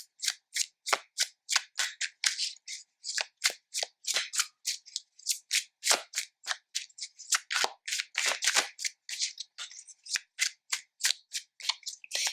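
Tarot cards are shuffled by hand in quick repeated riffles, a long run of crisp papery bursts at a close, fairly quiet level with no talking.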